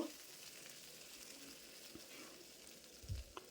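Chopped ivy gourd fries in oil with garlic, giving a faint, steady low sizzle, with a soft stirring scrape and a couple of light knocks near the end.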